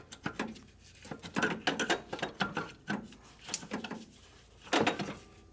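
A 2006 Honda Odyssey alternator is rocked back and forth during removal, giving a close run of irregular metallic clunks, knocks and ratchety rattles in uneven bursts with brief pauses.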